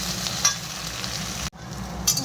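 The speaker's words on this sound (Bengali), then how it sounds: "আলুটা আর পেঁয়াজটা এখন একটু ভেজে নিয়েছি লাল লাল করে" Potato and onion frying in a pan until reddish, a steady close sizzle with a few stirring scrapes and a brief break midway, no voices.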